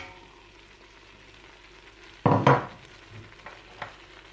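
Carrots are tipped into a pan of browned beef and onions for a wine-free beef bourguignon. A low sizzle runs beneath, then a sudden close burst of tumbling, sizzling noise, followed by a few softer stirring scrapes.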